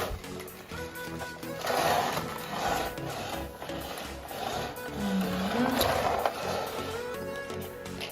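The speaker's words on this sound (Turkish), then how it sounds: "şu an Durun makinesini çalıştırıyor" A toy washing machine runs with a steady whirring motor hum and tonal mechanical whine, fairly quiet and continuous, with small clicks and fluctuations throughout.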